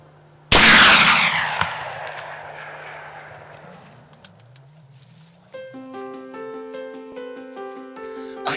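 A single sharp, loud rifle shot rings out at a doe in an open field roughly 175 to 180 yards away, its report echoing and decaying over several seconds before a steady tonal ringing takes over near the end.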